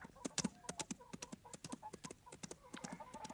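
Horse galloping fast in a Western setting, a quick run of sharp hoof clip-clops beating in a steady rhythm throughout, mid-distance and fairly clear.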